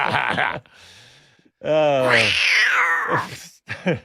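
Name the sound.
cat noise sound effect played by producer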